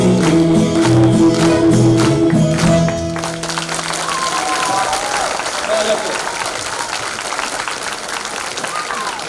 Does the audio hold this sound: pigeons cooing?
no